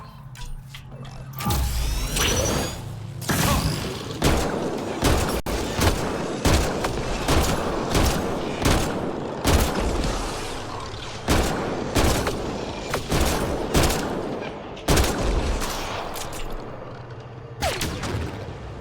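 Gunfire fills a battle in the video game Mass Effect Andromeda: dense volleys of loud, sharp shots come in rapid bursts almost continuously, with booming impacts mixed in.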